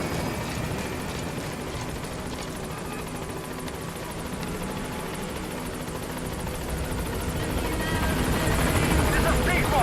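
Pequod, the helicopter in Metal Gear Solid V: The Phantom Pain, drones with a continuous rotor and engine roar that swells slightly near the end, with a voice faintly underneath.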